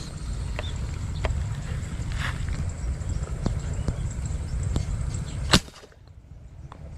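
A powerful airgun is test-fired once near the end, a single sharp, loud crack that cuts through a steady low background rumble. Small clicks and taps scatter through the moments before the shot.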